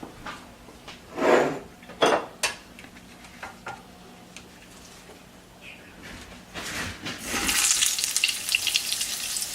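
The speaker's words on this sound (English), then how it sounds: "We are going to fry these." Breaded chicken for chicken parmesan frying in a pan, a faint sizzle under clattering utensil and pan knocks, with a brighter hiss building near the end.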